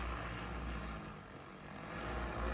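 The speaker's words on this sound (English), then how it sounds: "this drone was continuously working hard all day long" A large bamboo-carrying drone flying over a quiet village, a steady loud propeller hum and drone that dips slightly midway, then swells back up, with no talking.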